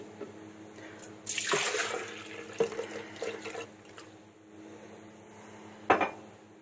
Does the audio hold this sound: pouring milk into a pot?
yes